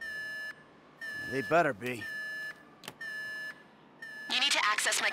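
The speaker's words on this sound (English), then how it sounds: "The alarm's been tripped." Repeated electronic alarm beeps in GTA 5 after a security alarm is tripped, sounding in steady bursts with pauses, while someone speaks over part of it and a noisy burst closes the sequence.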